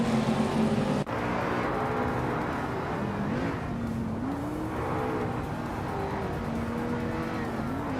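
Several race car engines drone steadily in a racing video game, pitches rising and falling as the cars shift gears and jostle close together, with a continuous loud engine roar throughout.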